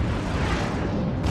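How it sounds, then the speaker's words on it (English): An atom cannon firing in the video game Forts, heard as a loud, dense roaring blast that fills the whole clip and swells again at the end, with no talk. "I'm gonna try to use my atom cannon on him."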